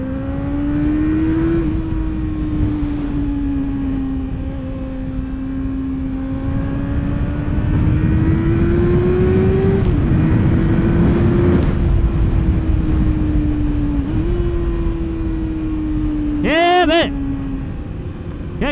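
A motorbike engine revs on a damp road with a loud, continuous drone whose pitch rises and falls. A sharper rev flares near the end, and someone talks over the engine.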